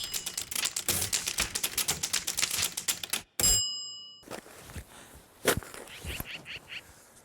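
A manual typewriter clatters through a quick run of keystrokes, then its bell dings and the carriage returns, followed by a few more scattered strikes, close and alone.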